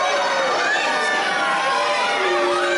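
Wrestling crowd at a live show roaring and shouting in reaction to a veteran wrestler, a loud, dense wall of voices with mixed yells and jeers.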